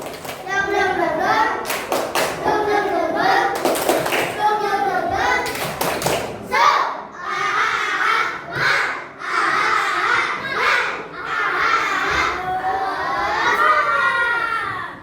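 Schoolchildren in a classroom perform a rhythmic clap-and-chant routine, their voices shouting along with sharp patterned claps and pauses, followed by more chanting in a lively group rhythm.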